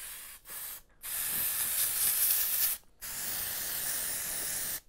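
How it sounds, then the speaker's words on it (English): Two long hissing bursts from an aerosol can of glitter hair spray, each lasting over a second, close up and loud, with a brief quieter spurt before them. "the last thing I have is glitter spray"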